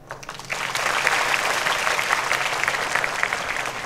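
Students applaud during a speech, a steady wash of clapping that swells after a brief quieter start and holds loud and dense to the end.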